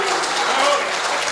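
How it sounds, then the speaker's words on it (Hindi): An audience applauding at a Hindi kavi sammelan, a poetry gathering, with brisk, dense clapping filling the hall throughout and a faint voice beneath it. "एक बार ताली ब्रजभूमि के लिए बजाइए"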